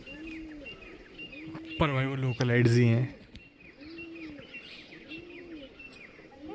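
Pigeons coo at Bhangarh fort in low, repeated rolling calls. A voice speaks briefly in the middle, and the coos continue around it.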